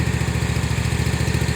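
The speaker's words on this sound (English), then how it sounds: "if you push the stick forward, the mower will go forward" A CE52T remote control lawn mower's engine idles close by with a fast, even, pulsing chug, running steadily on its own.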